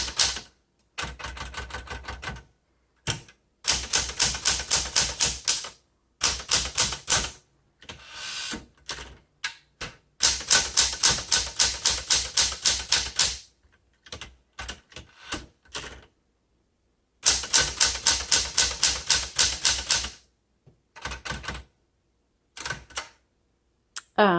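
A 1974 Smith Corona Galaxie 12 typewriter clacks in quick bursts of keystrokes separated by short pauses, with mechanical clicks and snaps close to the mic and no voices.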